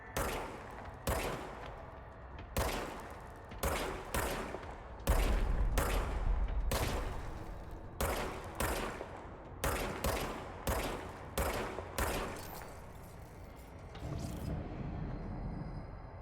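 The service weapon in the video game Control fires in sharp, loud bursts, shot after shot with short gaps, ending in a lower rumble.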